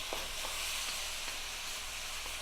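Shrimp with mirin and soy sizzle hard in a wok with vegetables, a dense continuous hiss broken by a few soft knocks of stirring, close and steady with no voices.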